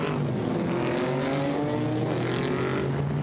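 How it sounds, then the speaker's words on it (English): A GT4 race car passes at Zandvoort during a GT4 European Series race, its engine note loud and continuous, with rising and falling harmonics as it goes by. "we've seen the first car go through shot"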